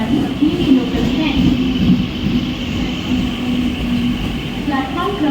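ICF slow local train arriving at Diva railway station on the Mumbai suburban line, a steady close rumble and rolling hum with faint wheel clatter, under continuous station announcements and crowd noise.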